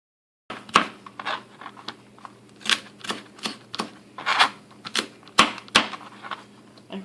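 A dull kitchen knife chops a chili pepper on a cutting board in a steady series of crisp, close taps, about a dozen evenly spaced knocks with no voices.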